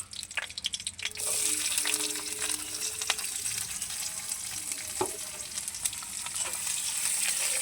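Chopped onion with whole cumin seeds and a bay leaf frying in hot oil, a steady close sizzle with scraping stirs and clinks of the spatula, no voices.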